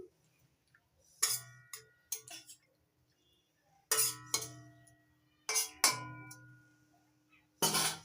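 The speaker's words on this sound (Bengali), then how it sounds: "এবার দিয়ে দিচ্ছি সেদ্ধ করা পেঁপে নাড়িয়ে নিচ্ছি একটু" A spoon stirs boiled raw papaya in a pan of sugar syrup for chutney, giving a few sharp, scattered clinks and scrapes against the metal with quiet gaps between them.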